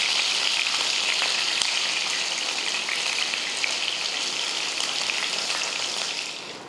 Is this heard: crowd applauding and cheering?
no